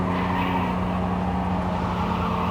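Car in Cyberpunk 2077 driving with a steady engine drone and tire skid noise, loud and continuous throughout, no talking.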